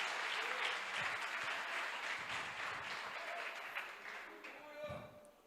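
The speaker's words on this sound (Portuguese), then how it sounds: "Você pode aplaudir e ficar de pé?" A church congregation claps in a sustained wave while standing, the applause fading gradually as a voice speaks over it and a few louder claps stand out near the end.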